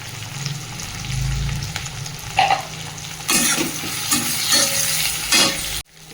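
Ground spices, turmeric among them, drop into hot oil with a green chili and crackle in a steady sizzle. Bursts of stirring brighten it midway, and it cuts off abruptly at the end.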